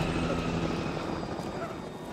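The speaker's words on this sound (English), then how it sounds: "Is that a helicopter?" A helicopter in a video game: rotor drone and engine rumble hold steady and fairly loud throughout, with no talking over it.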